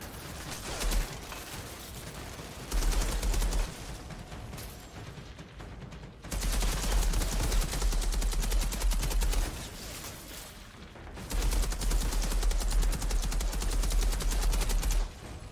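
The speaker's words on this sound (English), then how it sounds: "That was totally laser guns." Laser guns blasting in Outriders, long loud volleys of rapid-fire shots that start and stop in several bursts, each lasting a few seconds, with quieter rumbling gaps between.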